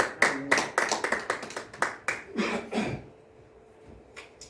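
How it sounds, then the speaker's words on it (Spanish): Church congregation claps for about three seconds, a quick, uneven burst of hand claps that then fades to a quiet room with faint scattered taps. "Denle un aplauso al Señor Jesucristo con todo su corazón."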